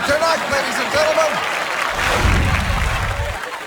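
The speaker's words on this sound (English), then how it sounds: "And the crowd is going wild" A fight crowd breaks into wild cheering and applause at the end of a bout, a dense, loud roar of voices and clapping that holds steady and swells toward the end.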